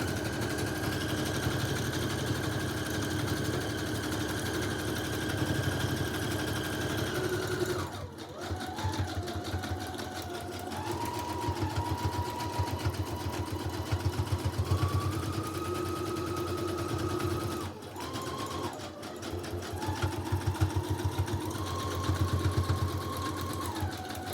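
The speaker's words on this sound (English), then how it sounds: "I'm gonna sew" A sewing machine stitches collage snippet rolls in long, steady whirring runs with a high motor whine, pausing briefly twice and shifting speed between runs as it resumes. The sound is close and clear, with no talk.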